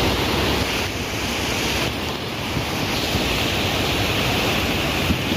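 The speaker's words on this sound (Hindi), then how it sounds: "इतनी जोर से पत्थरों की आवाज आ रही है ना, जब पत्थर आपस में टकर रहे हैं।" A forceful monsoon-swollen mountain river rushes in a loud, steady roar of broadband water noise, with stones knocking together under the flow close by.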